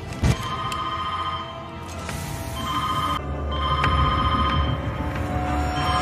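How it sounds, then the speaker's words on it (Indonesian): A telephone rings during a tense scene in the heist drama Money Heist. The ring comes in repeated electronic bursts at moderate volume, mixed with background scene noise and a sharp knock near the start. "dering telepon berbunyi"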